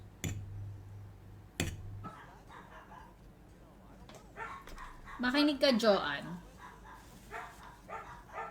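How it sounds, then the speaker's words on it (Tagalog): Dogs bark in short bursts near the start at someone outside, with a person speaking briefly in Filipino over a busy indoor background. "Gulo-gulo na mga aso ko. May tao kasi sa labas."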